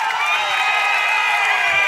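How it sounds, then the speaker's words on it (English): A baseball crowd at a Saint Ansgar versus Newman Catholic game cheers after a base hit, a steady, close roar of voices lasting a couple of seconds with no single voice standing out. "That gets the crowd going"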